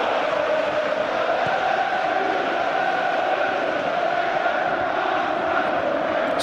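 A football crowd roars in a stadium during an FA Cup match between Southampton and Pompey, a dense continuous wash of cheering and chanting that stays loud and even throughout.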